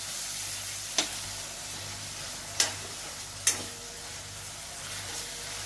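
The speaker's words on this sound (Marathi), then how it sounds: "तिथं आपल्याला कोलंब परतून घ्यायचा चांगल्या तेलात" Prawns sauté in hot oil with a steady, close sizzling hiss, broken by three sharp clacks of a spoon or spatula at irregular intervals; no voices.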